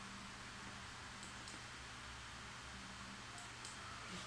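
The small fan of a smart electric face mask runs at its lowest setting, a faint, steady airy whir with a low hum underneath, constant throughout with no talk.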